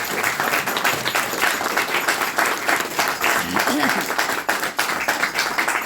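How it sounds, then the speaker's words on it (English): Dense, steady applause from an audience at a P.J. Lynch art show at the United Arts Club, Dublin, filling the whole stretch at close range without a break. "I wish you'd help me with a round of applause"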